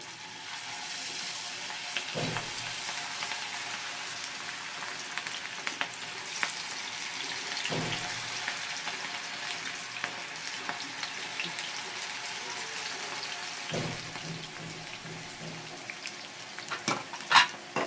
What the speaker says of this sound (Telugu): మనం తీసేటప్పుడు గలగల్లాడుతూ సప్పడొస్తుంది కదా, అలా వేగేంత వరకు క్రిస్పీగా వేగించుకోవాలి